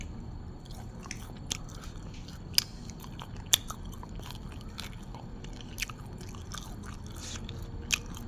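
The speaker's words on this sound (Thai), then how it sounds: "ทุกคนกินปิ้งหนูกับตำแตงของแซ่บ" Someone eats grilled rat with Thai cucumber salad, with close, moist chewing and a few sharp crunchy bites scattered over several seconds against a quiet background, with no talking.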